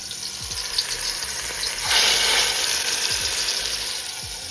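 Seasoned beef pieces hit a hot pot for Jamaican brown stew and sizzle steadily and loudly, the frying surging louder midway, with faint low clatter underneath and no voices.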